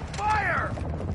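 Weapon reload in Call of Duty: Modern Warfare II, a brief close metallic mechanical clack with a creaking slide, a single quick action lasting about a second.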